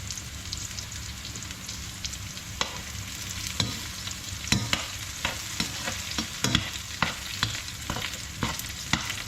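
Onions fry in a pan for a Trinidadian-style chicken curry, a steady dense sizzle with scattered pops and the clack of stirring at irregular intervals, close and continuous, with no voices.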